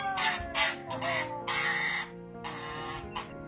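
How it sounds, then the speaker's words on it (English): An angry goose honks near and loud, a run of harsh, rasping calls in quick bursts that overlap and repeat with little pause. "Looks like you're being attacked by an angry goose."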